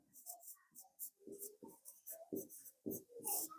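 Pen writing on paper during a maths lesson, close scratchy strokes in quick irregular bursts with short pauses, soft rustle under faint breathy sounds and no clear talking.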